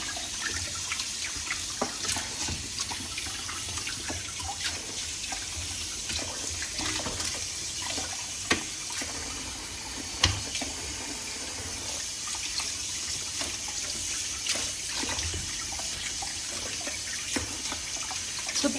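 Tap water runs steadily into a sink as salted dried fish is rinsed under it, a continuous close splashing hiss with occasional louder splatters and no voices.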